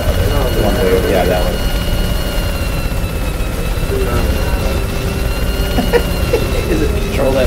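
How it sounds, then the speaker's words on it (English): A helicopter vehicle in the Worms WMD video game on Nintendo Switch, a continuous droning rotor hum heard steadily throughout, with players talking over it. "The helicopter."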